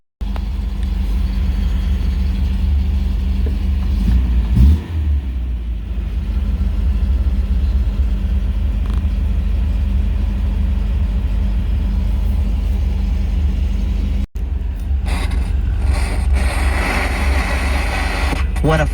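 A 1965 MG B engine runs steadily at close range with a continuous low rumble, lifting briefly in a revving burst near the start and changing character toward the end, while people talk over it throughout.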